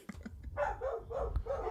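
Several dogs bark in a quick, ragged burst of yaps and woofs, fairly close and moderately loud, with no speech over them.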